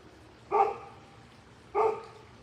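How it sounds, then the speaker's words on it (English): A dog barks twice, two sharp separate woofs about a second apart, moderately close with quiet in between. "Yay for barking poorly behaved dogs"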